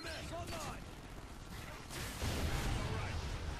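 Heavy booming blasts and crackling gunfire rumble continuously in a chaotic Call of Duty: Ghosts Extinction battle, growing louder toward the end, with a voice faintly mixed in.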